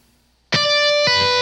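A heavily distorted electric guitar plays a slow power metal lick, two loud sustained notes ringing out one after the other, close and alone.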